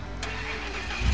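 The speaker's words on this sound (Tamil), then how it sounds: "ஸோ இன்ஜின் ஸ்டார்ட் ஆன காமிச்சிருக்காங்க" A truck engine starting in the off-road driving game SnowRunner: a brief crank that catches into a low, rumbling idle, loud and close, with no voices.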